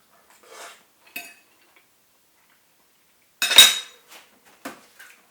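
A fork and spoon twirl spaghetti, giving a few sparse, close metallic clinks and scrapes of cutlery against each other and a dish, separated by silence.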